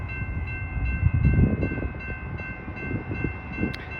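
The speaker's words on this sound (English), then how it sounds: "We have an outbound Metra and the California Zephyr at once." Amtrak Southwest Chief and Metra trains passing give a loud, steady low rumble of rolling cars close by, with a sustained tonal whine above it and a brief sharp sound near the end.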